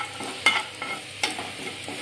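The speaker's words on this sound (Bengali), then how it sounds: "এদিকে আলু ভেজে নিচ্ছি" Potatoes and whole spices fry in a pan for chicken biryani, a soft, steady sizzle marked by a few sharp spatula scrapes and stirs, close and alone.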